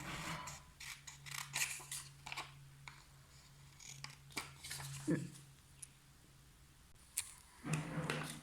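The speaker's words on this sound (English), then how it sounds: "we are just going to cut out a square, and we are going to cut out an aerial as well" Scissors snip a square out of paper for a walking paper robot craft, giving quiet, crisp cuts in short irregular bursts with brief pauses between them.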